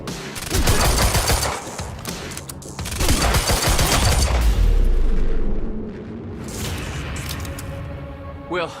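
Heavy gunfire in Quantum Break, loud bursts and rapid automatic volleys rolling through most of the stretch with booming low impacts, tailing off toward the end, with people shouting over the shooting.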